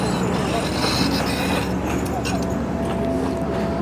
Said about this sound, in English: I'll just show you the little tram.